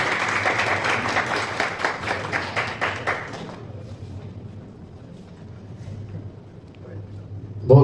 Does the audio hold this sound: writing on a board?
no